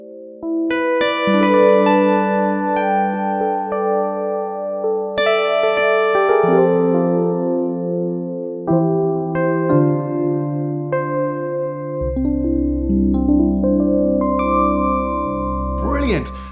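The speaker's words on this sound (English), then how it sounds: "I used to hate this cheesy DX7 E-piano sound" A Yamaha MODX synthesizer plays the classic Yamaha DX7 electric piano preset, dry with no chorus, in sustained bell-like chords and melodic notes that flow continuously. A deep bass note enters near the end, played alone with no voices.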